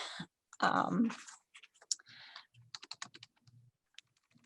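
Typing on a computer keyboard in a library setting, heard as scattered bursts of key clicks with uneven rhythm and short pauses, close and moderately loud, following a brief stretch of another sound at the start.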